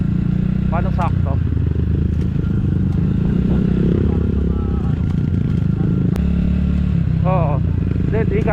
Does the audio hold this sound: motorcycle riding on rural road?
yes